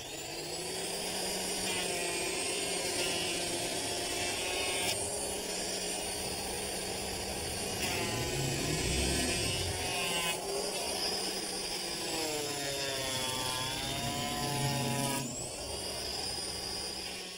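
An electric plane trims a wooden backyard gate, giving a steady, loud, high motor whine that holds for many seconds with small shifts in pitch as the blade bites the wood.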